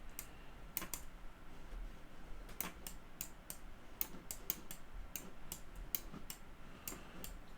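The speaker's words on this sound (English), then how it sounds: "Probably getting annoyed with mouse clicks." Sharp computer mouse clicks come in uneven bursts, some single and some doubled, fairly close and crisp over a quiet background with no one talking, during 3D modelling work on a custom wrestling figure.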